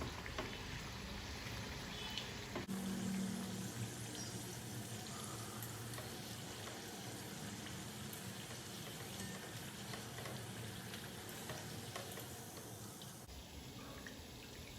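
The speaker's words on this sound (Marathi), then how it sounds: "आपण अगदी मीडियम फ्लेमवर ह्या चपात्या तळत आहोत" Chapatis frying in oil over a medium gas flame give a steady, dense sizzle that holds evenly throughout, close and fairly loud with no voices.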